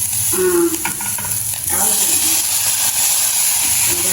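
Tomatoes dropped into a hot frying pan and stirred, a loud continuous sizzle with scraping stir strokes, close by.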